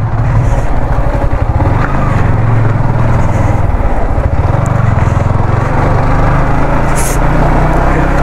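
A motorcycle or car engine runs steadily at close range for the whole stretch, a continuous low rumble with a loud, even drone and no talk over it, as a ride gets under way.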